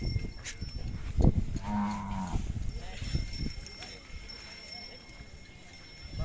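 Bulls lowing at a Hali bull market, a loud, drawn-out moo rising near the start and a second call following, with crowd chatter, voices and market noise around them.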